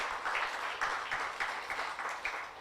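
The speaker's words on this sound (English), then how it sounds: "Let's give him another round of applause." Scattered audience clapping at an African media awards ceremony honouring a science agency director, faint and distant, with a loose rhythm of individual claps rising and falling.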